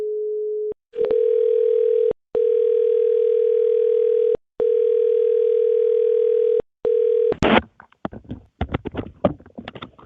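A telephone line tone sounds during a call back after a dropped call: a steady, loud tone broken by several short gaps, ending in a burst of clicks and handling noise.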